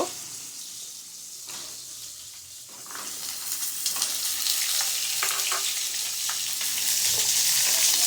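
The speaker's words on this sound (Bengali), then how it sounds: "এটা আমি একটু চাপা দিয়ে দিয়ে এটা ভেজে নেব" Potatoes and pointed gourd frying in a pan while being pressed down, a soft hiss at first that swells into a fuller, crackling sizzle with occasional utensil scrapes.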